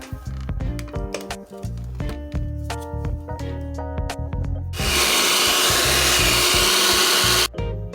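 An electric mixer whirs steadily as eggs are beaten into sweet potato pie filling, starting with rattling clatter and then running at a loud, constant hum before stopping abruptly near the end.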